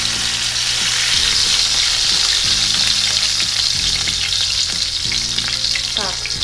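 Burger patties sizzle and fry steadily in a hot pan, a constant loud crackling hiss with occasional spatters, no voices.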